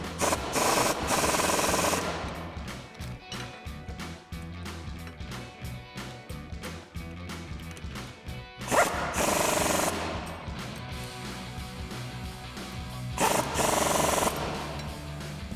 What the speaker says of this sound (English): we'll take a 17mm socket and wrench to tighten these down